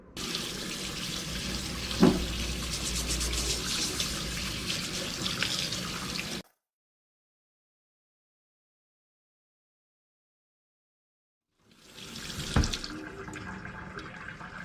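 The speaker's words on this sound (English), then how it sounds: "I'm going to scrub this with warm water" Warm tap water runs over a small smooth rock being scrubbed at a sink. A steady rush of water lasts about six seconds, drops to silence, then returns with a brief knock. No one talks.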